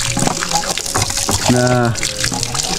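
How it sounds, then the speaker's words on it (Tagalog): A hand pump gushes water in a strong, splashing flow while someone talks over it, with a short hum-like vocal sound in the middle. "Pag bumba tayo ng bumba nito, grabe ang agos"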